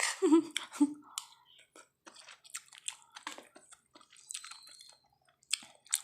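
Close, wet chewing of puffball mushroom curry, irregular soft clicks and squishy bites with pauses between mouthfuls, plus a brief murmured voice at the start.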